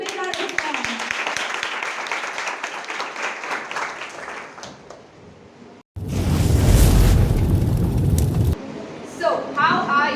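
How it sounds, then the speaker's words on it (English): A talk show audience breaks into loud, dense applause welcoming a guest, a sustained burst after a stretch of speech, with talk resuming afterward. "Please give a big round of applause."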